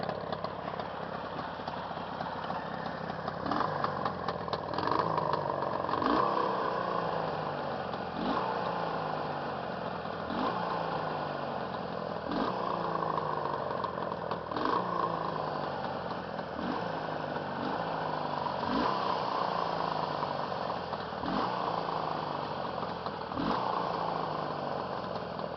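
A Jawa 638 motorcycle engine, freshly rebuilt, idles steadily and quietly with an even exhaust, a continuous close chugging rumble with regular rhythmic pulses throughout.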